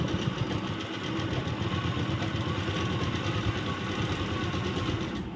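A sewing machine runs steadily while stitching a nightie, a continuous fast mechanical chatter at even volume that lasts the whole stretch without a break.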